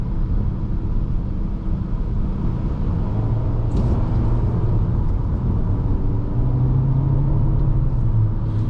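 A 2021 Nissan Altima SR AWD family sedan takes a corner, heard from inside the cabin as a steady low engine and road rumble, with the engine tone rising slightly partway through.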